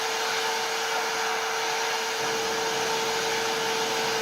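A small replacement screw for a Lionel 1001 is held in an open flame until red hot. The flame gives a steady, close, hissing roar that thickens slightly partway through, with no voices.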